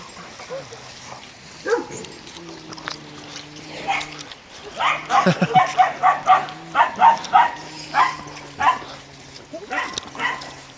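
A small dog barks repeatedly in short, yappy bursts nearby, the barking quickening midway, while people talk and laugh over it.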